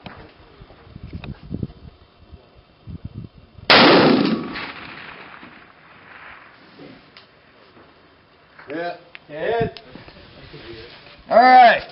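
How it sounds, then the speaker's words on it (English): Rifle shots fired at a long-range target beyond 500 yards outdoors, a loud sharp blast followed by a decaying echo, with talking before and after. "First time ever shooting at anything over 500 yards."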